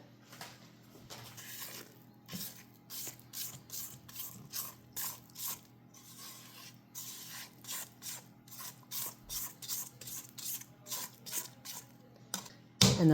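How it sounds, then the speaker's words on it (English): Rhythmic scraping of a spatula around a mixing bowl of chocolate cookie dough, a steady series of soft rasping strokes, close and fairly quiet, with no talking. "Time to scrape down the sides again."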